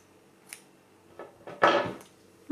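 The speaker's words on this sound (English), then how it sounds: "I'm going to chain 1 and snip off" Scissors snip through crochet yarn: a couple of soft close clicks building to one louder crisp cut, with near quiet between.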